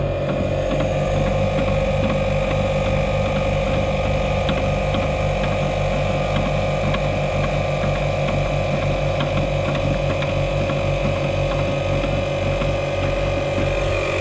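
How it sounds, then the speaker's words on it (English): An air compressor runs continuously while building pressure toward about 110 psi. It makes a loud, steady mechanical hum with a fast rhythmic ratcheting pulse and no pauses. "The compressor should cut out before it gets there anyhow, because I think the pressure sensor's set at 110 pounds."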